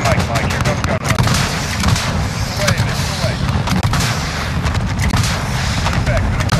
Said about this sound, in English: Viper inbound. Targets are in sight. Stand by for fire. Inbound with 30 mic. Mike, here comes gun run.